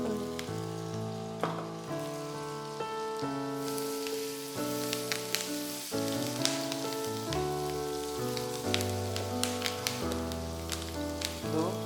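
Garlic and green chilli fry in a small splash of oil, giving a steady, close sizzle and crackle with scattered pops, heard throughout beneath a bright melodic background music track and without any talking.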